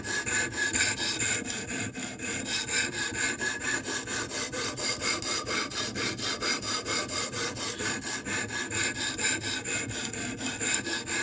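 An A2 steel blade is pushed back and forth across a sharpening stone in steady, rhythmic strokes, a continuous close scraping rasp with no talking.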